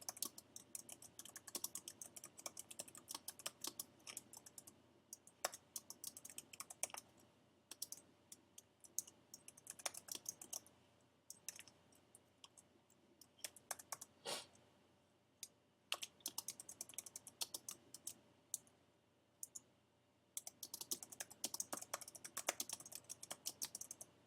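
Steady, close typing on a computer keyboard, with rapid uneven bursts of key clicks and brief pauses running throughout, with no voices.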